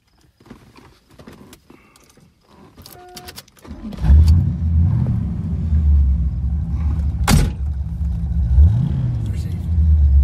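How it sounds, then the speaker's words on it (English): A 1970 Corvette T-top coupe with an Edelbrock intake and chambered muffler cranks to life after a few quiet seconds of handling noise, then settles into a loud, deep, steady idle rumble with a couple of brief revs. "So let me start it up here."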